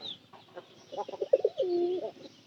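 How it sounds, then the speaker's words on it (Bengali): Chickens at night make soft, scattered clucks and coo-like calls close by. The calls come in short bursts that build into a longer sustained call, with no talking. "এই যে মুরগিগুলো ঘুরতেছে"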